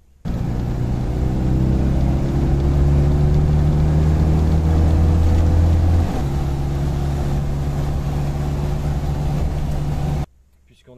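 A 1986 Citroën 2CV6 Spécial with its 602 cc twin-carburettor engine runs steadily and loudly for about ten seconds, a constant droning hum with a slight pitch shift midway, then cuts off abruptly.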